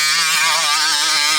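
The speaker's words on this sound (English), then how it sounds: "I cannot believe the power of that engine, man." A Primal RC Raminator toy monster truck's engine screams at high revs, a loud, close, buzzing whine with wavering pitch as the throttle shifts, with no talk.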